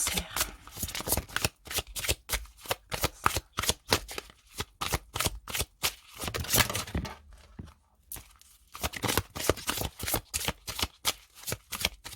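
Oracle cards from a protector-dragons deck being shuffled by hand, a rapid run of crisp riffling flutters and slaps close up, pausing briefly near the end before resuming.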